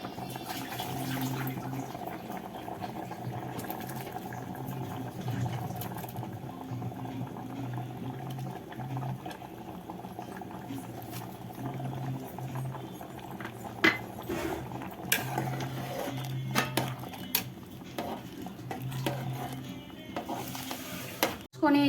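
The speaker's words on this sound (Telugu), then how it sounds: "నానబెట్టుకున్న పచ్చనిపప్పు, సగ్గుబియ్యం వేసుకుందాం." Soaked moong dal and sago going into a pot of simmering payasam, a steady quiet bubbling with faint stirring and scattered clinks of a utensil toward the end.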